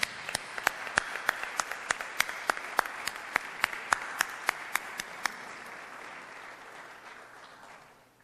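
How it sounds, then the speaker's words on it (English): Audience at a Hall of Pride induction ceremony applauding the inductees, with sharp individual claps standing out over a dense, steady patter that slowly fades toward the end. "One more round of applause to all our inductees."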